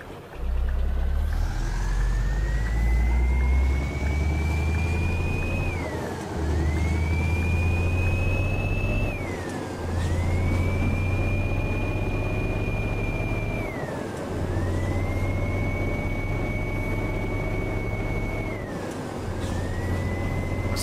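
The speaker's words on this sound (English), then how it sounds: "I swear the engine's louder in this thing than the average Scania" A heavy Scania 143 M truck engine in a video game, hauling 25 tons, drones continuously up close, its pitch climbing and dropping repeatedly through gear changes, loud and unbroken.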